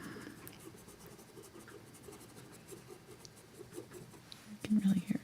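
Paint brush scraping across paper during an acrylic painting of Valentine's chocolate candies, a soft rhythmic dry rasp of repeated strokes, close and quiet, under a speaking voice.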